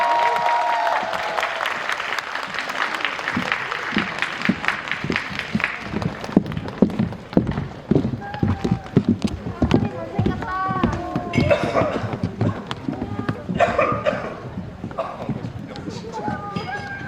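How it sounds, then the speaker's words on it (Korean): Applause from an event audience welcoming the Pachinko season 2 cast and producer onto the stage at a guest screening talk, starting with a host's voice, then dense, steady clapping mixed with crowd noise and occasional talk. "큰 박수로 맞이해주세요"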